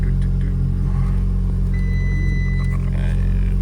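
An Audi S3 engine running just after a Braille G30 lithium battery was fitted, giving a steady, close low rumble that holds evenly throughout with faint higher whirring on top.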